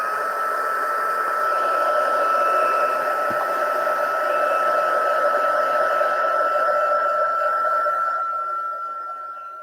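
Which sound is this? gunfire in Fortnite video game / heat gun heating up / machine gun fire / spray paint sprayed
heat gun heating up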